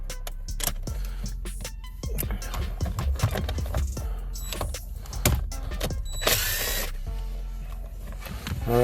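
Ratchet and hand tools clicking and clattering while removing two 7mm screws from the radio of a 2015-2019 Ford Mustang, irregular close ratcheting and tool handling, with brief talk.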